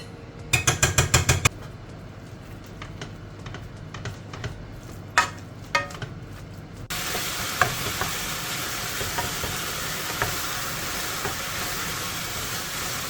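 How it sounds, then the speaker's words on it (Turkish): Minced meat for a stuffed eggplant filling fries in a pan, starting with a few quick scraping stirs, then a steady close sizzle with occasional spoon taps and scrapes, without speech. "İç harcımızı kıymanın rengi değişene kadar tavada kavuruyoruz."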